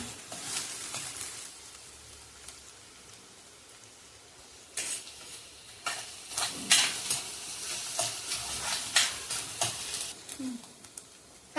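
Onion fries until browned for a spicy pulse-flour curry, a soft sizzle broken by bursts of stirring and scraping in the pan, close up and without talk.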